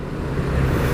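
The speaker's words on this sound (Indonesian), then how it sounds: "GLA 200 Mercedes Benz." A Mercedes-Benz GLA 200 passes on a road in Semarang with a steady broadband rush of tyres and engine that swells slightly as it nears, heard alone without voices.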